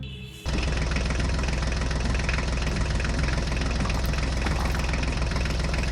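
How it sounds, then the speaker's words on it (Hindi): Engines of mini tractors start up and run, a loud steady knocking, idling drone that begins abruptly after a brief moment and continues unbroken. "चलो ड्राइवर, जल्दी से मिनी ट्रैक्टर्स को बैक कर लो और ट्रक गाड़ियों के पास लेकर चलो।"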